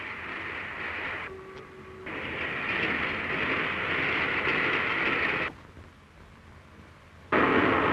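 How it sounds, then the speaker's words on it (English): A vintage LMS steam train running along the railway, a steady rushing, rattling roar with a brief tonal squeal early on, a sudden drop to a quieter stretch and then a loud return. "The train hurries northward,"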